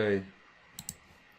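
Two quick, crisp computer mouse clicks close by in a quiet room, following a voice that trails off at the start.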